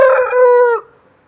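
A champion rooster just let outdoors crows once, loud and near, a sustained harmonic call that breaks off abruptly and leaves quiet behind.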